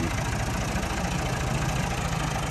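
A tractor engine idles with a steady, loud low rumble while hauling a sand trolley, continuous and close with no talking.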